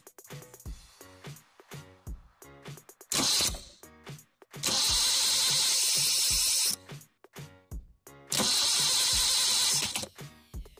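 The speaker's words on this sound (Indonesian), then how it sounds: "Ternyata dinamo starter bisa bekerja atau berputar dengan normal" Car starter motor wired straight to the battery's positive cable, spinning in several loud bursts of whirring with harsh broadband noise, separated by short clicks and pauses.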